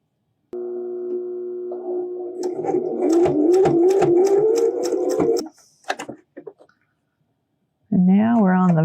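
A sewing machine stitches a cloth face mask with a close, rapid whirring run that slows near the end, then stops; a few soft handling sounds follow before a voice speaks.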